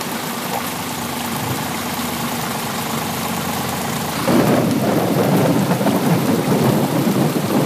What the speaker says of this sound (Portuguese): Que chuva é essa?